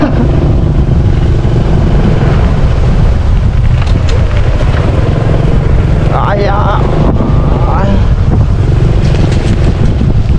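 Heavy wind blasting into the microphone outdoors under a light drizzle: a loud, unbroken low roar and buffeting throughout, with brief faint sounds rising out of the noise partway through.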